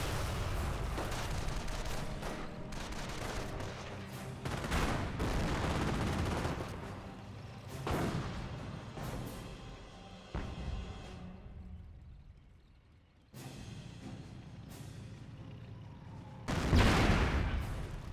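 Company of Heroes battle with US forces against Wehrmacht Panzer IVs and an AT gun: dense rattling gunfire, repeated booming artillery and cannon blasts, and explosions in irregular bursts, loud and close, with a brief lull before a final heavy blast.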